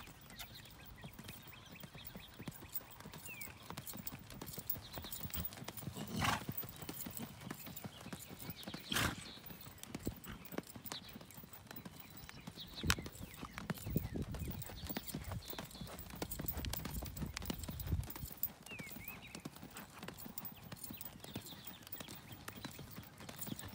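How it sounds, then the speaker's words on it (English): A horse lopes in a western pleasure class, its hooves giving soft, steady, rhythmic thuds on an arena surface at moderate distance, with occasional louder knocks and faint background noise throughout. "Lope your horse."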